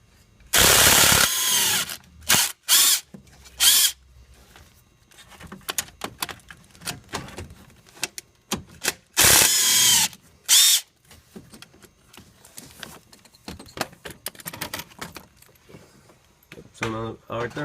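A power drill removes the two 10mm bolts at the base of a thermostat housing on a 2002-2005 Audi A4 1.8T. Two loud bursts of whirring are heard up close, with clanks of tools and someone talking in between.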